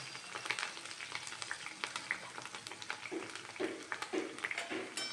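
Okra slices frying in hot oil in a kadhai until crispy, a continuous sizzle with crackling pops and occasional stirring taps, fairly quiet and close with no talking.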